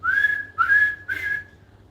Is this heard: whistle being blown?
yes